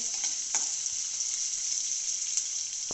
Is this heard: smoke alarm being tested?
no